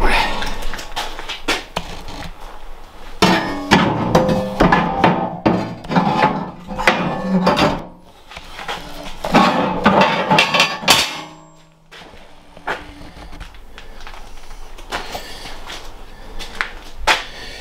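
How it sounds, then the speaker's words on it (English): Steel floor plate fitted by hand into a Nashorn gun mount's cradle traversing base: repeated metallic knocks, clanks and scraping in irregular bursts, close and loud, with a person talking over parts of it. "Let's see if I can put the floor plate in with one hand."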